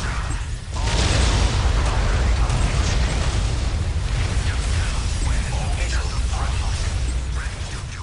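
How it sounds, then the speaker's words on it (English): A Tau missile barrage strikes a Necron monolith in Dawn of War: Dark Crusade as a dense, continuous roar of rumbling blasts and whooshes that swells after a brief pause and holds loud to the end. "let's get another round of missile barrage on a monolith"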